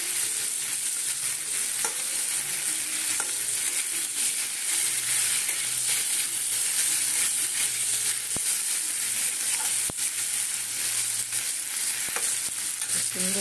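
Paneer fries with kasuri methi and butter in a pan, a steady sizzle with occasional stirring scrapes and clicks running throughout, no one speaking.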